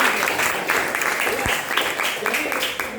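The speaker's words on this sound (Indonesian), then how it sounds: "Beri tepuk tangan buat." Applause at a vocational high school event in Indonesia, a dense steady clatter of many hands clapping filling the room, fairly loud and sustained, with voices mingling beneath.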